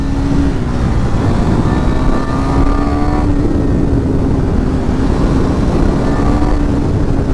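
A single-cylinder mid-size motorcycle engine drones loud and close, its pitch climbing and settling as it pulls through the gears, with no voices.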